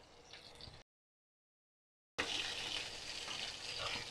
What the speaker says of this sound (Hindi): इसमें 1/4 कप और तेल डालकर और हम 1 टेबल स्पून इसमें लहसुन अदरक डाल रहे हैं